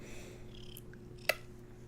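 Close-up purring from a house cat sitting by the microphone, a quiet, even low rumble lasting under two seconds and broken by one brief sharp click near the end.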